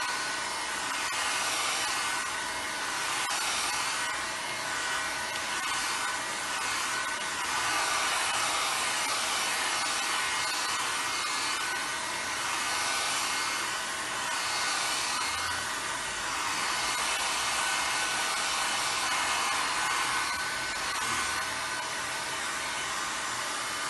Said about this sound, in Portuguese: eu vou apanhar um secador de cabelo para a gente secar agora